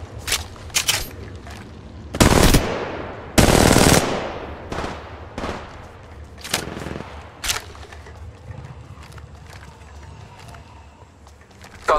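Bursts of automatic gunfire in the Apex Legends video game, played on an iPad, with loud rapid volleys around the second and fourth seconds and scattered shorter shots and booms throughout, some sharp and close, others lighter.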